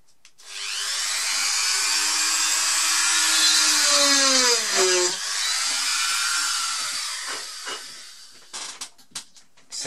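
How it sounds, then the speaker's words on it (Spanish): A Dremel rotary tool drills a hole in a resin bookmark, a close high whir that spins up, holds with shifting pitch as the bit bites, then winds down into brief scraping and clicks. "Con la Dremel vamos a hacerle un taladrito."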